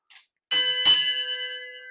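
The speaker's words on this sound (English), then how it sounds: "We'll ring the dinner bell even though it's not dinner time" A dinner bell rings twice in a kitchen, two bright metallic strikes close together that ring on with a long, slowly fading shimmer, with no talking.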